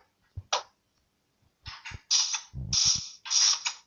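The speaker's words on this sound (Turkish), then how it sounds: "ben demir kapıyı elimle açıp kapatabiliyorum bak" An iron door in Minecraft is opened and closed by hand several times, giving short mechanical clanks and creaks in an irregular rhythm with quiet gaps between them.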